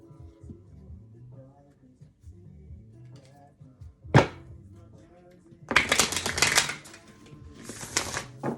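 Tarot cards shuffled by hand: a single sharp riffle snap, then about two seconds of dense, bright card riffling, and a fainter burst of shuffling near the end, over quiet room tone.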